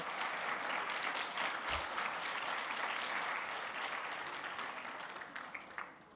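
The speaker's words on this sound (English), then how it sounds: "So let's give a round of applause to the 2020 Conference Planning Committee." Audience applause at a conference opening ceremony honoring the 2020 Conference Planning Committee, a dense steady wash of many hands clapping throughout, slowly thinning toward the end.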